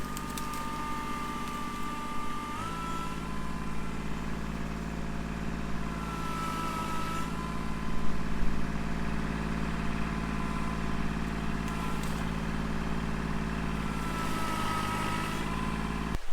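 A compact tractor engine in low gear and four-wheel drive labors at steady revs, its pitch shifting as it strains under load, with a faint grinding as a tire spins.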